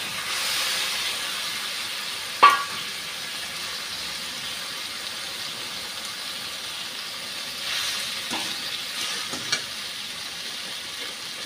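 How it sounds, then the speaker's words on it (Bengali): Fish going into a pan of well-fried spices gives a soft, continuous sizzle and hiss, quiet and steady, with a sharp clink near the start and a few faint knocks later. "মশলাটা খুব ভালো করে ভেজে নিয়েছি। এখন মাছগুলা দিয়ে দিচ্ছি।"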